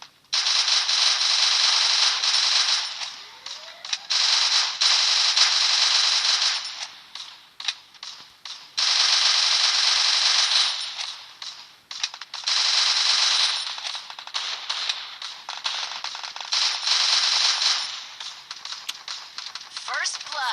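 Rapid machine gun bursts in the video game Free Fire, a series of loud, crackling automatic volleys several seconds long separated by brief gaps, repeating through the whole stretch.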